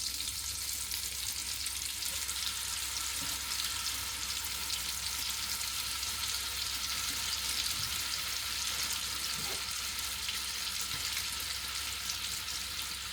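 Greens sizzle in butter in a pan with Thai ketchup mayonnaise stirred in, a steady, even frying hiss that continues alone without talking.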